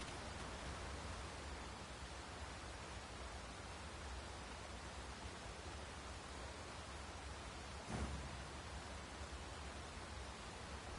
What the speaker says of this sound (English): Won't this rain ever let up?